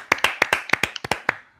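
A small group in a podcast studio claps at an annual general meeting, about ten sharp, close hand claps in an uneven rhythm lasting just over a second before fading out.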